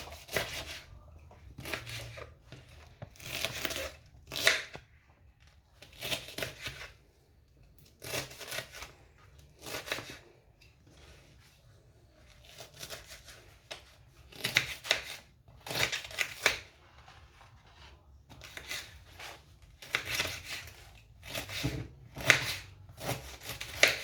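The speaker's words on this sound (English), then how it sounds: "So all I'm doing now is chopping it up to smaller sizes." Remedy ingredients for a homemade drink are chopped on a board in repeated bursts of quick knife strikes, separated by short pauses. The chopping is close and crisp.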